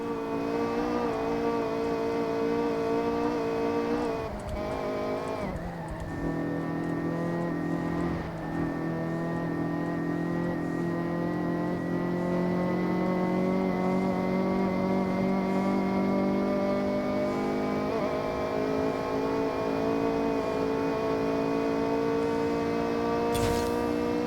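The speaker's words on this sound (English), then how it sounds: "This is a PR stunt, so get to the end drifting as much as possible." In Forza Horizon 6 a car's engine holds a high, strained rev through a drift zone in snowy mountains, pitch sliding and wavering as the throttle is worked, steady and close throughout with no voices.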